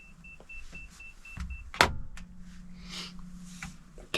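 A camera beeps during a deer hunt in Mexico: a steady string of short, faint, high-pitched beeps repeats for over a second, followed by a sharp knock and a low whirring motor hum from a nearby vehicle.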